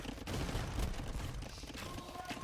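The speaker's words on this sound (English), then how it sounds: "If the bombard cannons can get in, they will do the job." Bombard cannons fire in Age of Empires II, a rapid cluster of booming blasts and crackling impacts that overlap into a dense barrage of battle noise lasting a couple of seconds.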